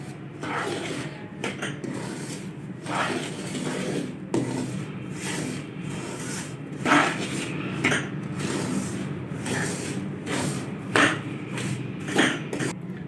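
A spoon scrapes and rubs through thick moong dal halwa in a pan as powdered sugar and milk powder are stirred in, giving repeated gritty strokes in an uneven rhythm, close and fairly loud.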